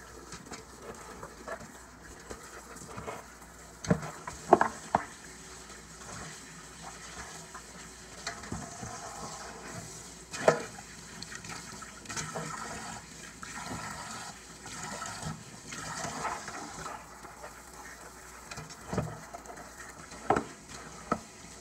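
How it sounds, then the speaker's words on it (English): Hot water runs continuously in a quiet hiss, with occasional clinks and splashes as meat for red beans and rice is rinsed beneath it. "I'm gonna wash them off with some hot water."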